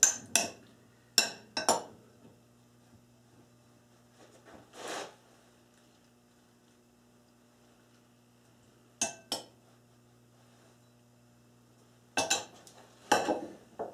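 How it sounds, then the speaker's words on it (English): Salad vegetables for a Niçoise salad, French beans and potato among them, are tossed in a bowl, heard as sparse clinks and scrapes of utensils in short bursts with quiet pauses between. "Again, before I plate it, I mix all my vegetables inside."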